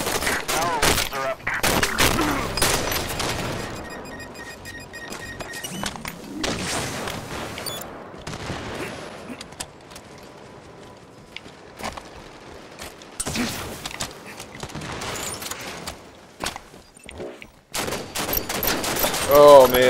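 Bursts of rifle fire and shots crack through a Halo 5: Guardians Beta multiplayer match, coming in uneven clusters with gaps between, fairly loud over game ambience.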